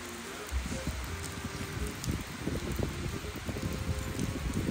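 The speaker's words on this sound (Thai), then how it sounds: "ลมก็แรงฝนก็ตก" Steady rain with gusting wind, a dense broadband hiss and patter that stays fairly constant, with no voices.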